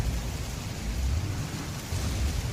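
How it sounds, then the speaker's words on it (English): Heavy rain in a fighting video game, a dense, steady wash of downpour with a low rumble, continuous and loud throughout. "This rain is intense."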